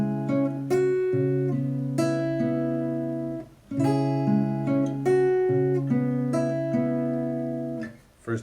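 Solo fingerstyle guitar plays the opening two bars of a song's guitar part, plucking bass notes and upper strings in a steady arpeggiated pattern, close-miked. The phrase is played twice with a short break between.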